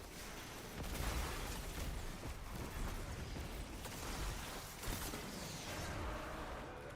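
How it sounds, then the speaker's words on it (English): Grenade thrown and exploding in a first-person shooter game, with dense, noisy rumbling bursts and several sharp blasts over steady background game sound. "I'm throwing a grenade"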